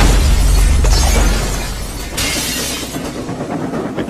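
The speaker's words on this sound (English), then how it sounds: "Caused the glass in the coaches to shatter and rocked them side to side." Glass shattering in train coaches as an explosion's shock wave strikes, a loud sustained crashing burst with heavy low rumble that eases after a second, then a second crackling surge of breaking debris.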